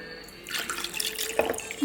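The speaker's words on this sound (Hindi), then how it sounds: "अब डालेंगे इसमें हम थोड़ा पानी" A small splash of water poured into a glass of Paul John Bold single malt whisky, a short trickling pour with a few bright drips, close and fairly quiet, with no talking.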